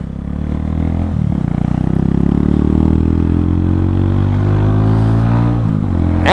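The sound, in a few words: Mutt motorcycle engine running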